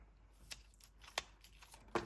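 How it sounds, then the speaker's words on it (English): Crop cards from a cash-stuffing savings challenge being shuffled, giving a few quiet riffling bursts spaced about a second apart against a near-silent background. "I'm going to take my crop cards here that I've already done. And I'm going to shuffle it a bit."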